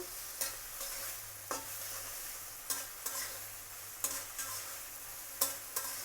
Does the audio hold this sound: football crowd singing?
no